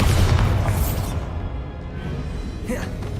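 Bombarda exploding spell in Hogwarts Legacy, a loud booming blast that decays over about a second, followed by a quieter whooshing burst near the end.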